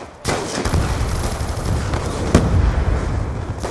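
A grenade goes off in a video game, releasing a dense, loud burst of crackling blasts and rumble that sustains for several seconds, with a couple of sharper cracks standing out close by.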